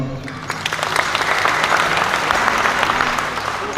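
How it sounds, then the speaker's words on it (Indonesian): Audience applauding the regional police chief at a land certificate ceremony in Kali Unda, Klungkung, a dense steady clapping from a crowd that holds for the full stretch. "tepuk tangan untuk beliau"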